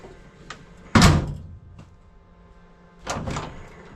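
A Ford Model A coupe hotrod door swings shut with a close, solid thunk, followed a couple of seconds later by a second softer shutting thud, with quiet shop ambience between.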